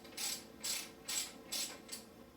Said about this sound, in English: you're going to go ahead and torque them down evenly to ensure even pressure on the guard as well as the